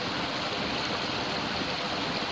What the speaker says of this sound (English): This water is amazing for the audio too.